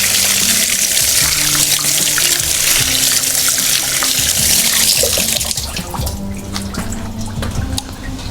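Tap water runs hard as garden soil is rinsed off in a tropical outdoor garden, a loud, steady rushing gush that softens slightly toward the end.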